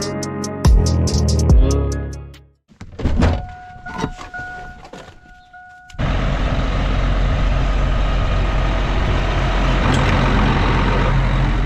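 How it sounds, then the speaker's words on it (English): Farm tractors on the move, a steady loud diesel engine drone with rumbling low end that settles into continuous running after a few seconds of clunks and mechanical shifting. "So tractors are on the move now."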